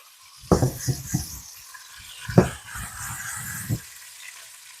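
Sticky pork ribs browning in a pan, with clustered sizzling bursts and stirring scrapes at irregular moments over a low frying hiss, close and moderately loud.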